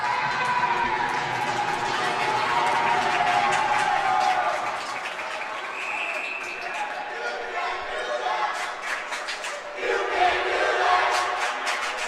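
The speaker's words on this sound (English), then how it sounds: "Kings Park Commack crowd with the "You Can't Do That" chants early on" Hockey crowd at a Kings Park Commack high school varsity game chanting in a steady, loud wall of massed voices throughout, with a brief dip near the end before swelling again.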